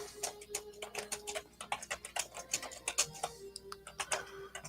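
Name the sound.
typing on a computer keyboard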